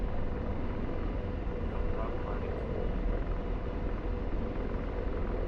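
A helicopter flies in a flight video game, giving a loud, steady rotor and engine drone that holds unbroken throughout.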